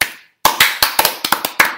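Hands clap in a quick, uneven run of about a dozen sharp, close claps after a short pause, with no talking.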